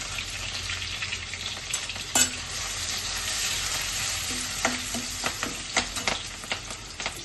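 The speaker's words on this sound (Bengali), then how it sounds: "রসুনটা একটু ভালো হয়ে গেলে এর মধ্যে গাজরটা দিয়ে দেবো, আর বিনসটাও দিয়ে দিচ্ছি।" Carrots and beans fry with garlic in a pan, a constant dense sizzle with a few sharp scraping stirs and knocks toward the end, close and alone.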